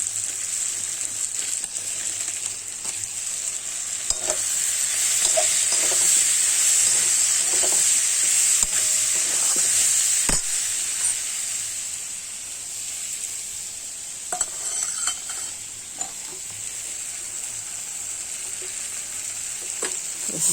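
Kashmiri chili powder and hot chili powder frying in a pan give a steady, fairly loud sizzle that swells in the middle and then eases, with faint scrapes of stirring and no voices.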